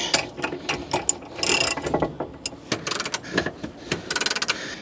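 Ratchet torque wrench clicking as it tightens bolts on an Andersen Ultimate 5th Wheel Connection Gen 3 hitch: loud, close bursts of rapid ratcheting with short pauses between strokes.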